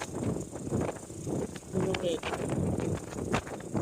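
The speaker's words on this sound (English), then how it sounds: "All right, so it's really blowing. Here comes the next big gust here." Strong storm wind gusts roar across an exposed coastal spot during a bomb cyclone, a steady, loud, broadband rush that surges and holds without letting up.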